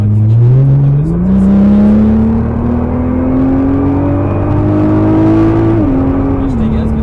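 A Nissan GT-R engine accelerates out of a corner on a track, rising steadily through the revs in one long, loud pull before a brief shift-like dip and then continuing near and alone.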